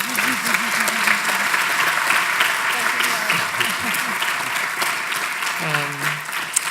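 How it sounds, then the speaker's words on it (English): Steady applause from a conference audience fills the room at an even, dense level, with a voice speaking briefly over it near the end. "Let's give them a round of applause."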